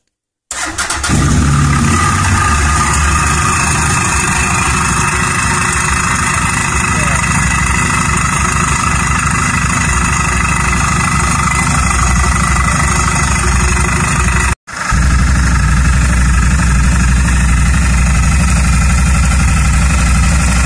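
A CFmoto X8 ATV, in neutral during a CVT variator service, cranks and fires up, then settles into a loud, steady close idle that runs on, briefly cutting out for a moment before resuming.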